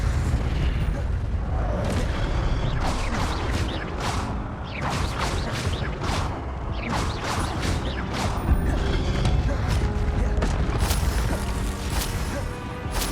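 Expelliarmus disarming spell in Hogwarts Legacy: a dense stretch of magical bursts, crackling impacts and booming crashes over a constant low rumble, loud and busy throughout.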